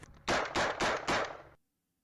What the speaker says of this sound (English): Free grenade for the Russians. A little artillery as well.